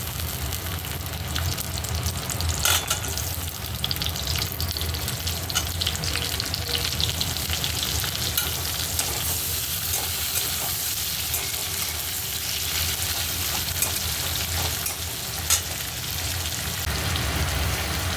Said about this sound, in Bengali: কাটা পেঁয়াজগুলো আমি দিয়ে দেবো এনে একটু ভেজে নেব